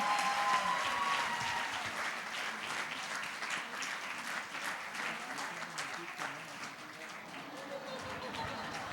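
At a Japanese festival stage show, an audience claps loudly and continuously for a child performer, a dense wash of applause that eases slightly toward the end, with voices heard over it.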